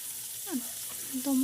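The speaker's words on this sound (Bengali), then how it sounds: "সব সবজিগুলো ভালো করে ভেজে নেব" Potatoes and drumstick pieces fry in hot oil with a soft, steady sizzle beneath a voice as she talks.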